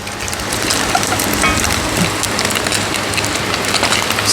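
Fish frying in coconut oil in a pot for a Jamaican fried fish dish, a loud, steady, dense crackle and hiss throughout with no talking.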